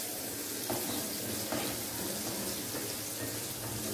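Seasoning fries in a pan for tomato curd chutney, giving a constant close sizzle with faint stirring scrapes running throughout.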